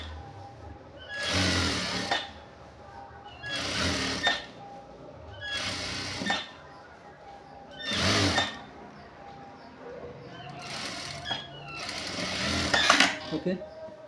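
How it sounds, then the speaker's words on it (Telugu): A sewing machine stitching khadi cloth shorts runs in about six short, loud whirring bursts separated by pauses, close up, with a person speaking in between the runs. "ఓకే, ఇంకో కుట్టేద్దాం."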